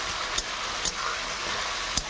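Onion, ginger-garlic paste, cumin, chilli and tomato paste sizzling in a pan while being stirred for a chicken curry: a steady close hiss with a few soft scraping knocks.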